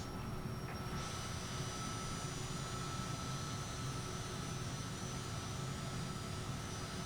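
A Cessna light aircraft's engine drones steadily inside the cockpit in Microsoft Flight Simulator 2024, a loud continuous broadband roar with a low rumbling hum that never lets up.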